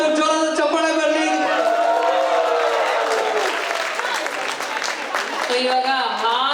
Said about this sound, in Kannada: ಅಪರ್ಣ ಅವರು ಜೋರಾದ ಚಪ್ಪಾಳೆ ಬರಲಿ